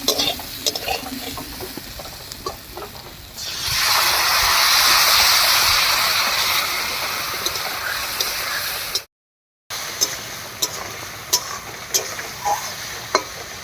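Teasel gourd frying in a pan with spices, heard as a loud, steady sizzle and hiss that swells in the middle, with scattered stirring clicks and spoon taps before and after a brief cutout.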